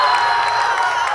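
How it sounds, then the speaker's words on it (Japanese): A stadium crowd in a soccer video game erupts after a goal, a loud, dense, continuous roar of cheering that fills the whole moment. "場内大歓声"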